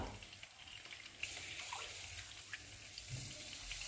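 Milk pours into a pan of flour and garlic fried in butter or oil, giving a soft continuous liquid rush and faint sizzle, quiet and close, with no talking.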